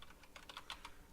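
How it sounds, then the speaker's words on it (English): Clicky typing on a mechanical computer keyboard during a Mad Games Tycoon session, a quick run of crisp keystrokes close to the microphone, fairly quiet, with no speech. "sorry if my keyboard's a little too loud. It's just I prefer mechanical keyboards"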